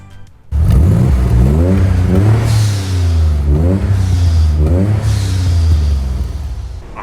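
Twin-turbo engine of a Nissan 300ZX, a barn-find rebuild, starting up and pulling away, loud and close, with a deep rumble and several rising and falling revs as the car gets underway.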